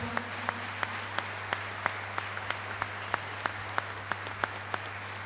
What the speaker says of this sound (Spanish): Pido un gran aplauso para todos los chicos que colaboraron en la organización, en la comida.